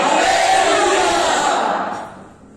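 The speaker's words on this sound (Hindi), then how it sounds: "तो अब एक बड़ी भीड़ चीखे मार रही है आनंद के साथ," A large crowd screams and shouts with joy, a loud, dense roar of many voices that holds steady before fading out over the last second.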